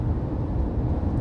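Steady low drone of a Tata Safari Dark diesel automatic at speed above 120 km/h, engine hum blended with road and wind noise, continuous and even with no talk.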